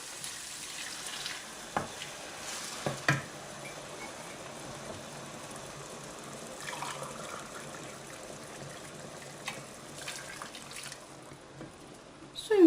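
Bulgur sizzles and crackles quietly as it sautés in a pan, with occasional scraping stirs and a few sharper clinks.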